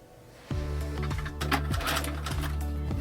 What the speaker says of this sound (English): I began sewing